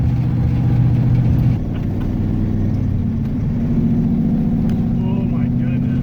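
A V8 engine fitted with a small lawn mower carburetor lugs uphill in fourth gear, a loud, steady low rumble from inside the car with a slight drop in level partway through.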